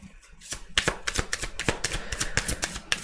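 Tarot cards shuffled by hand close up, a rapid run of crisp slaps and riffles in uneven bursts, with no talk.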